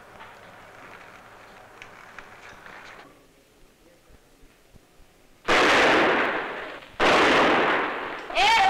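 Two loud, sharp gunshots from a film scene, each a sudden blast with a short decaying tail, spaced about a second and a half apart after a quiet stretch with faint background noise.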